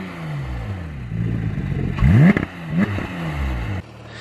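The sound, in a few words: Porsche 911 GT3 exhaust sound, 4-litre six-cylinder engine revving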